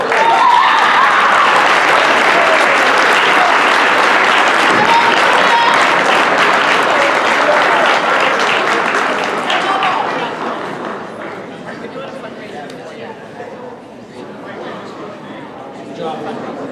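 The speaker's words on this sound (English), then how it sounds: "one more round of applause for all of our winners." Loud, sustained applause and cheering fill a school assembly hall at Winslow High School's student recognition event for an award winner, later thinning to scattered clapping and crowd chatter.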